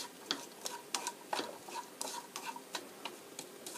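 Onion and bacon stir-fry in a pan until golden, a faint sizzle broken by rhythmic scraping and tapping of a utensil against the pan, about ten strokes, with no talking.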